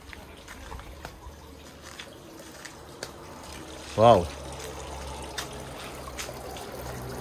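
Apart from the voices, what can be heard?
small water fountain trickling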